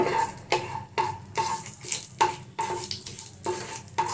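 Whole spices, a bay leaf, four cardamom pods and cinnamon sticks, stirred in hot ghee in a pan, giving a soft sizzle broken by regular scraping strokes about every half second, close and steady with no voices.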